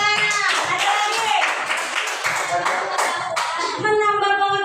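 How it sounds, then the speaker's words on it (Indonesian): A classroom of students claps hands in quick, ragged bursts of sharp slaps, close and loud, while a teacher and children's voices talk over them. "Beri tepuk tangan."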